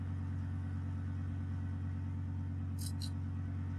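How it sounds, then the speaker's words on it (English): Touring car engine in the iRacing sim, a steady low idling rumble with strong harmonic bands held throughout, smooth and even like a purr, with two brief high-pitched bursts near the end and no talking. "The engine noise is like purring cats there."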